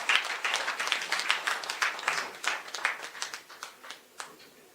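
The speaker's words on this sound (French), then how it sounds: "À nous mettre maintenant ensemble pour nous applaudir le Saint-Esprit de Dieu" Church congregation applauding together, a dense run of clapping hands that fills the space and gradually thins toward the end, with no speech over it.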